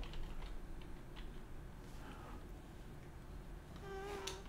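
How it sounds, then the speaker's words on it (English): Faint, irregular computer keyboard typing clicks sit beneath steady background game audio, scattered quick taps rather than a steady rhythm, with a brief rising tone near the end. "I'm typing really badly today."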